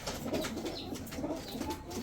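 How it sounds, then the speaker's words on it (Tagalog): An ice pigeon coos softly in a low, repeated burbling rhythm, close by and faint, over a quiet background. "Ice pigeon."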